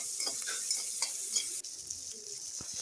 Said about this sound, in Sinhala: මේ ටික පොඩ්ඩක් තෙල් එකේ බැදෙන්න දෙන්න.